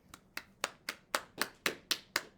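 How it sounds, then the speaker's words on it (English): A fifth-grade class gives a student a round of applause: a thin, sparse patter of about nine evenly spaced claps, close and moderately soft. "Let's give Brooke a big hand."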